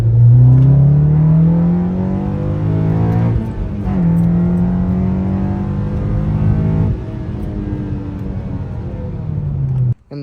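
Induction roar from a 9th gen Honda Civic Si with a 3-inch short ram intake and velocity stack, pulling hard to redline: the engine note climbs steadily through gear changes, loud and close, with brief dips between rising sweeps.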